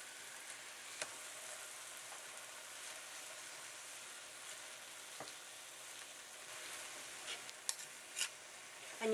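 Corned beef frying in a pan of tomato sauce and vegetables, a soft, steady sizzle throughout with a few faint clicks and scrapes from utensils, fairly quiet and with no talking.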